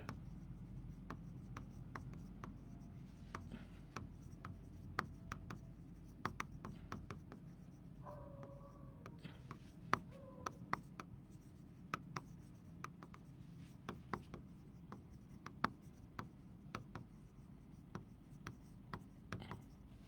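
Chalk or marker taps and scratches across a board during a chemistry lecture, a quiet irregular run of short strokes and ticks over faint room noise, with no voice.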